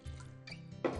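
Water poured into a pot while cooking chicken with lemon juice, a short liquid splash and trickle with a brief louder burst near the end.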